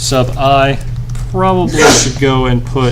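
A single sharp sneeze bursts out between stretches of a person talking.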